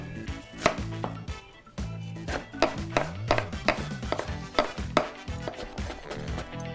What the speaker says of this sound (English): I'm just gonna use about 1/4 of an onion diced